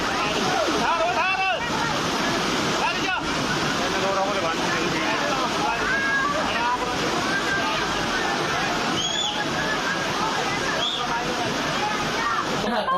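Fast, swollen floodwater rushing through flooded city streets in Gujarat during heavy rain, a loud continuous roar and slosh that stays steady throughout, with voices faintly audible beneath the water noise.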